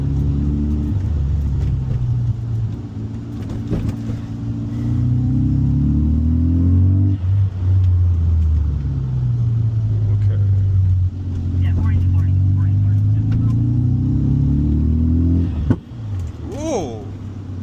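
A Veilside-kitted Mazda RX-7 being driven in Japan gives a steady engine drone with rising and falling revs throughout, a brief voice near the end.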